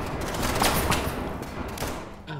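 Rapid gunfire from the video game SCP 5k crackles in quick bursts of overlapping shots, loud and close, thinning slightly toward the end.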